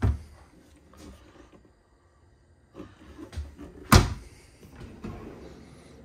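A kitchen drawer in a 2022 Riverstone Reserve 3950FWK front-kitchen fifth-wheel RV slides open and shut with soft rolls and several clunks, including one sharp, loud bang midway, heard up close.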